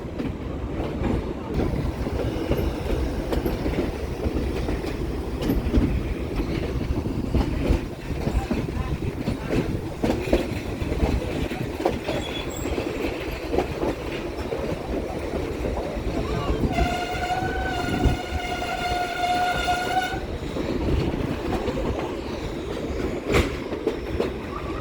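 Denver & Rio Grande Western steam locomotive #484 on the Cumbres and Toltec line, steady rumble and rail clatter of cars riding the track, with a brief squealing tone partway through and some voices in the background.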